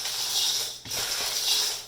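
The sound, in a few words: stirring corn cereal, pretzels, cheese crackers and corn snacks in mixing bowl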